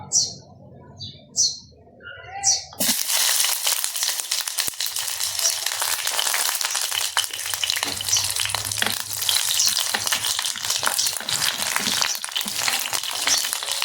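Onion frying in a pan for a chicken sinampalukan dish, a steady, loud sizzle that starts after a few seconds of brief birdlike chirps and carries on without pause, with no talk over it.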